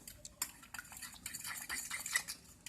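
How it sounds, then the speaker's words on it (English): A spoon or fork stirs an Indomie omelette egg mixture in a bowl, with rapid close clinks and scrapes against the bowl, fairly quiet and without talk. "Stir the mixture until it's mixed."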